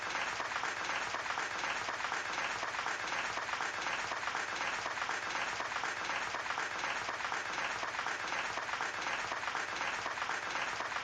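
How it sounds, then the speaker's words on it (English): Steady round of crowd clapping carries on without letup, an even, moderately quiet wash of applause throughout. "all I hear is the round of applause."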